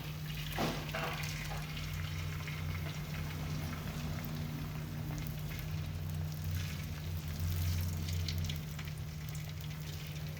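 Beaten egg frying in hot coconut oil, a steady dense sizzle that holds evenly throughout at close range, with a low constant hum beneath and no talking.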